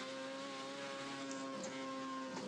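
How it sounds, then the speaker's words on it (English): Powerful modded car in the Assetto Corsa racing game accelerating hard, a steady engine drone with strong harmonic tones holding level throughout, brief dips suggesting quick shifts near the end. "It just accelerates. It doesn't want to stop accelerating"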